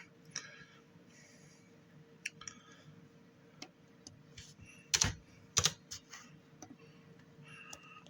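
Someone types a few keys on a computer keyboard and clicks, giving sparse, soft taps scattered over a quiet background, with two louder clusters of clicks near the middle.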